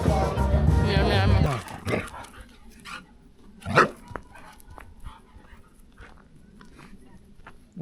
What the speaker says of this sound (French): Gros chien.